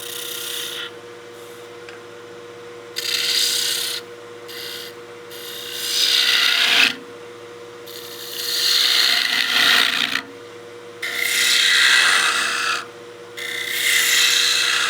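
A gouge cuts into spinning wood on a lathe while roughing out a snowman oil candle's hat, coming in several loud rasping passes of a few seconds each, separated by quieter motor hum.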